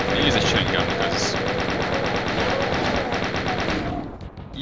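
Rapid, continuous machine-gun fire from the chain gun in the video game Doom, a dense, loud stream of shots that carries on for about four seconds before cutting off into a few quieter game sounds.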